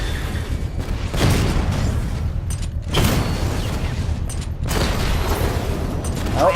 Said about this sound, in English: Direct hit on a Rattler! Eat missile!